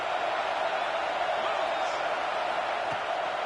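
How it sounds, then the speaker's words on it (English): A football stadium crowd at Michigan versus Oregon, a dense, steady roar of cheering heard from a distance, continuous and even throughout, with a voice talking over it. "This crowd knows when to bring it."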